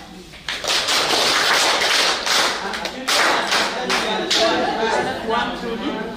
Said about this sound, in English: We would want to hear the claps come out nicely.